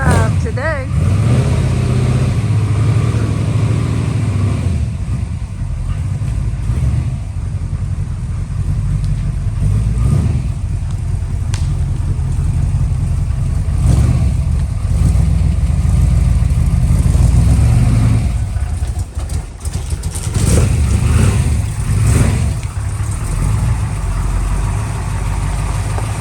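A 1965 Mercury Comet Caliente convertible runs on a test drive, its engine rumbling steadily and close with some swells in revs, while people talk over it now and then.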